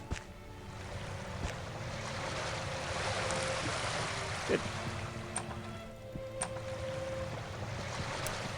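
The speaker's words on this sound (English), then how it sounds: "I don't know why the water needs to be so loud." Water in the video game Arcanum: a steady, loud rushing and washing wash of water like surf, continuous throughout with faint clicks, as someone briefly speaks over it.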